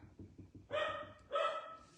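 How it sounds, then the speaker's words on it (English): A pet dog barks twice in the background indoors, short muffled yelps that sound slightly distant in a quiet home. "Sorry about my dog barking in the background."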